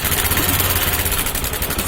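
Bajaj Discover 150cc motorcycle engine running just after starting with new coil, a steady close idle with a rapid pulsing beat and a metallic ticking rattle, suggesting a timing chain or tensioner noise.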